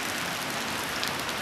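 During a thunderstorm in Kimovsk, heavy rain hisses down in a dense, even patter, a brief, fairly quiet wash of drops with no voices.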